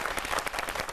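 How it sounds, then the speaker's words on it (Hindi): Audience applause at a televised Hindi poetry recital, a brief burst of dense clapping from a seated crowd, steady and moderately loud throughout the second. "जरा जोरदार तालियां"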